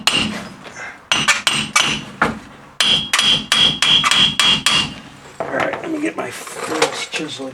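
A hammer strikes a chisel while ball joints are worked on a 2005 Ford F-350, giving loud, sharp metallic blows in quick bursts with short pauses, and a voice speaks near the end.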